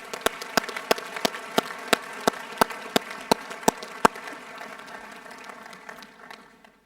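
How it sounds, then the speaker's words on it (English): An audience at a school senior prizegiving applauds. A nearby clapper beats a steady, evenly spaced rhythm over a broad wash of crowd clapping, which keeps going and slowly fades after the close claps stop. "we'll give them a big round of applause."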